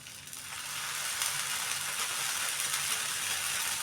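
Vegetable roti cooking in a pan with a little oil added, giving a steady, soft sizzling hiss that holds evenly throughout with no voices.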